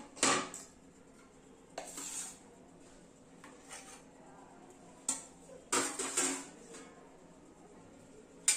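Plates being handled while making a veg masala cheese toast sandwich give sharp ceramic clinks and clatters in scattered bursts, with a cluster of quick knocks near the end, close by over a quiet room.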